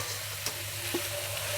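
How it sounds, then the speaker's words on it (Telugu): Chayote and carrot with freshly grated coconut being stirred in a pan, a soft continuous sizzle with a couple of brief scraping strokes from the spoon, close and steady with no talking. "ఒకసారి బాగా కలుపుకున్నాము. పచ్చి కొబ్బరి బాగా కలిసేదాకా."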